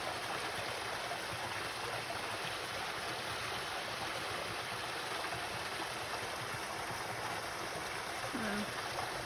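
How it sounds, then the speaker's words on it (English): A small spring stream flows along a hiking trail on the Ozark Trail, a steady, near, unbroken wash of running water filling the whole stretch without pause. "Just passed the cutest little spring"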